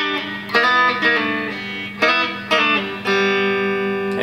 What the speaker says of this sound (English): all I'm doing there is some hybrid picking